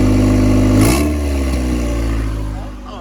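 A 300,000-mile Honda Civic EG hatchback with its exhaust removed revs loudly close by. The raw engine note peaks, then falls back and settles toward a rough idle.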